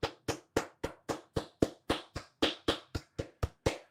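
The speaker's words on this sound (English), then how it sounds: "This guy deserves a round of applause." A single person clapping in a courtroom hearing for a lawyer, about fifteen sharp, evenly spaced claps close by, alone without voices.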